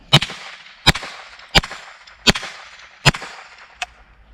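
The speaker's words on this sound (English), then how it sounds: "We got 5 rounds of the arms core, unsuppressed, just to be able to get an idea here, shooting into the dirt." Five sharp, unsuppressed gunshots from a Ruger 10/22 rifle firing into dirt outdoors, evenly spaced about three-quarters of a second apart, each a loud crack with a short tail, then a fainter click after the last shot.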